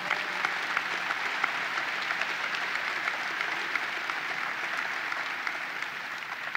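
Large audience at the opening of a new expo center at the 2018 Great New York State Fair gives sustained, even applause, a steady roar of many hands clapping at once for the whole stretch.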